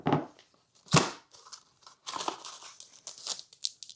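Close, quiet crinkling of a plastic bag while unboxing a Keychron K2 HE keyboard, irregular rustles and crackles in short bursts with pauses between.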